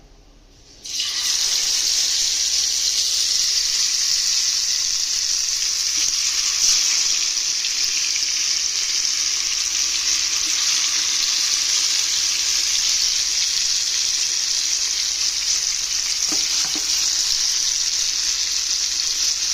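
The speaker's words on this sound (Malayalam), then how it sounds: "ഇനി നമുക്ക് ഓരോന്നായിട്ട് വറുത്തെടുക്കാം" Loud, continuous hiss of masala-coated sardines frying in hot oil, steady and unbroken, with a couple of faint clinks.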